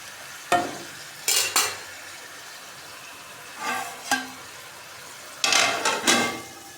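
Onion and tomato masala frying in a pan, with several bursts of sizzling and scraping as it is stirred, separated by quieter pauses of low cooking hiss.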